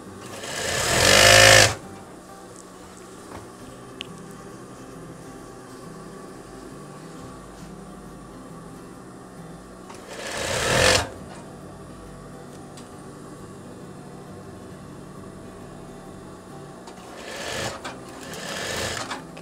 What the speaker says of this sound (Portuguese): a gente já dá um retrocesso na costura para reforçar.